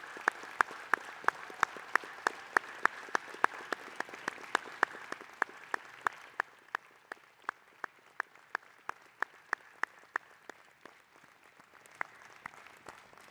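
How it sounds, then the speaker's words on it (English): Graduation ceremony audience applauding for the new business and law graduates, with distinct sharp claps in steady rhythm that loosen and thin out toward the end, heard from within a large hall. "I would now like to ask you all to join me in congratulating our graduates with a warm round of applause."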